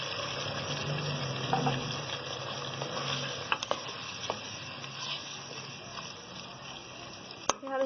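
Potatoes and soya cooking in a pan as water is added, giving a steady close sizzle with a few scattered clicks of a utensil and no one talking.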